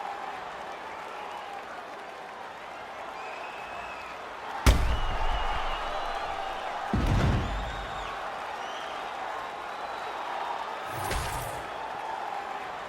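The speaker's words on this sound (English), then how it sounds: "This crowd is going sick after what they saw in that previous round." Steady arena crowd noise in EA Sports UFC 5 between rounds, a continuous roar of cheering at moderate level with a few sharp thuds and bursts rising above it.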